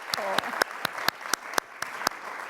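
Sparse audience applause at a WASH leadership event, with a few distinct claps spaced out over a soft background murmur.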